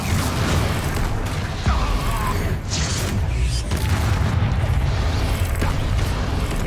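In the Hogwarts Legacy video game, an Incendio fire spell is cast in combat, producing a dense, loud roaring burst of flame with booming impacts that carry on continuously through the whole stretch.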